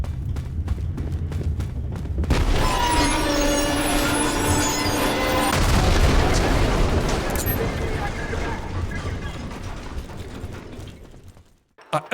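Gunfire and explosions from a boomer shooter video game roar continuously for about ten seconds, with dense punchy shots, blasts and mechanical clatter before cutting off near the end.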